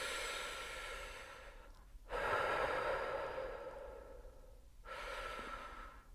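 Breathing exercise for singing: a long, airy exhale, then a deeper, louder inhale, then another breath, each a soft rushing hiss close to the mic with short gaps between.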